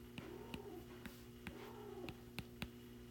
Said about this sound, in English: You guys hear my cat talking tonight?